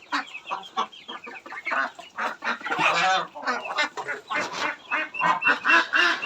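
Chinese ducks kept at home alongside quail give loud, repeated honking calls, a dense run of overlapping, close squawks with no talk.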